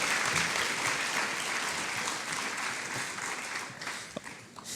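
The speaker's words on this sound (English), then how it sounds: "please give them another round of applause" At a National Arts and Humanities Month celebration in Linden, Union County, an audience gives a steady round of applause, a soft, even patter of many hands continuing for nearly five seconds, heard from a distance.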